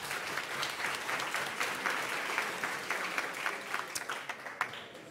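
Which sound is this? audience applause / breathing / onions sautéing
audience applause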